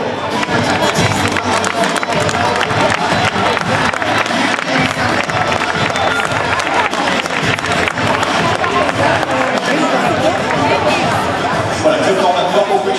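A large audience at an opening ceremony for a martial arts night in a hall applauds loudly and continuously, clapping mixed with chatter and occasional cheering for the full stretch.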